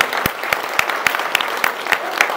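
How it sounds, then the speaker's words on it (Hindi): Audience applause fills a hall during a political speech: a dense, steady wash of clapping with sharper individual claps popping out at regular intervals, sustained and fairly loud throughout. "अपने लिए तालियां बजाएं पहले"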